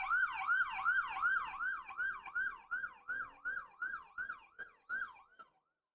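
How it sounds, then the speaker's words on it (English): A wailing emergency siren sweeps up and down in a steady repeating cycle, loud at first, then fading and cutting off as the vehicle passes. "the siren sound as it approaches compared to after it goes by"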